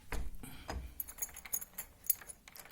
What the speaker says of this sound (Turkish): alt ve üstteki tırnakları tutturduktan sonra bakın bu anahtarımızı döndüreceğiz